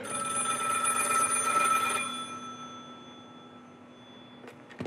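A telephone bell rings loudly and steadily for about two seconds, then stops, with a quiet room left behind.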